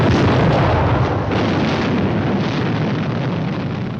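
A bomb blast from a film: a massive, continuous rumbling roar of explosion that stays loud and dense throughout, with rolling low booms and crackling debris, no voices.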